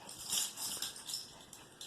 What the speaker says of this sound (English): My dog is licking the ground.